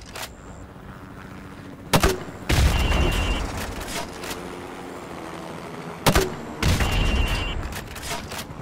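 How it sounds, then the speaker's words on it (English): A grenade launcher firing into building windows in Call of Duty: Modern Warfare Remastered: two rounds, each a sharp launch thump followed moments later by a loud booming blast with rumbling debris, close and forceful. "now pop a grenade into windows 5,"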